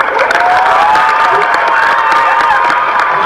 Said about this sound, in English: Extra long standing ovation applause for you there.